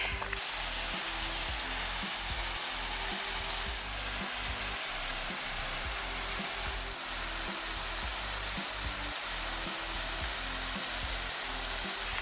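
A weakly flowing waterfall near Colwith Forest in the Lake District after dry spells gives a steady broad rushing hiss, constant and unbroken, with low rumbling underneath.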